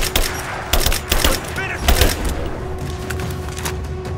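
Gunfire in Rise of the Tomb Raider, sharp bursts of shots and rapid volleys, loud and close, mixed with other battle noises and game voices.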